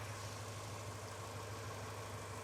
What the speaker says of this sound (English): Engine's sounding good.